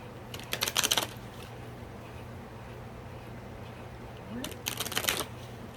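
Two bursts of oracle cards being shuffled, crisp rapid riffling close by, separated by a few seconds of quiet room noise.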